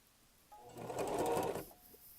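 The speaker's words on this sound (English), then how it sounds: "or I can pivot and sew along the batting" A sewing machine stitches through a small quilted mug rug with batting, one steady close whirring run of about a second that starts and stops cleanly.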